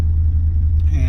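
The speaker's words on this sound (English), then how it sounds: "Traffic is moving good" Highway traffic on I-80 rumbles steadily from nearby while parked just off the road, a deep continuous roar with a passing vehicle swelling briefly near the end.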